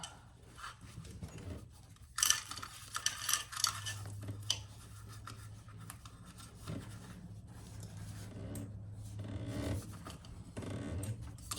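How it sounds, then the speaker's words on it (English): Zipper on a Teddy Mommy & Me diaper backpack being pulled down, heard as a few scratchy, rasping pulls and rubs close by, with fabric handling between them and no talking. "Pull that zipper down."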